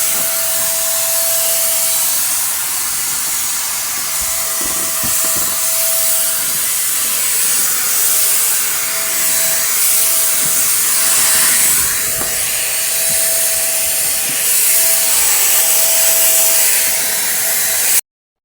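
Continuous loud hissing spray of anti-termite treatment under a lifted roof, steady and close for the whole stretch with slight fluctuations and no talk.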